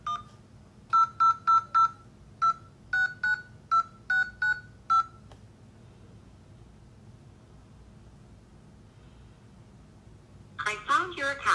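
Touch-tone keypad beeps on a call to an electric company's automated line: about a dozen short, evenly paced tones in quick groups, loud and clear, followed by silence and then a brief burst of a recorded voice.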